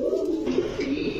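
Rajshahi Genda female pigeons coo in a pigeon shop, giving soft, low, rolling coos close by that rise and fall over about a second, with no talk.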